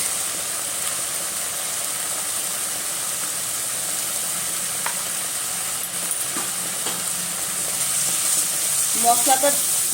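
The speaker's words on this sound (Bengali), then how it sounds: "মশলাটা আমি ভালো মতো করে ভেজে নেব মশলার মধ্যে আমি দিয়ে দেব হলুদ মশলাটা" Spice masala with turmeric frying in a pan, a steady, even sizzle that runs throughout at moderate level, with a few faint scrapes and clinks near the end.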